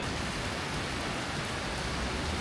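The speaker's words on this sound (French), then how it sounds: "Vous avez vu comment il pleut?" Steady, dense rain falling in Brisbane at a bus stop, a broad continuous hiss with no pauses and no voices.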